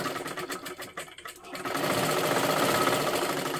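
A sewing machine stitches a blouse sleeve, starting with a few stuttering bursts and then settling into a steady, continuous mechanical whirr, loud and close.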